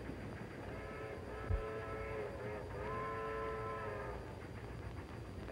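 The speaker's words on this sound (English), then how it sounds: "That sounds like the train from Chicago." A steam-era passenger train from Chicago drawing near, its long steady whistle tones sounding at moderate distance over a continuous low rumble, with one brief thump partway through and no talk.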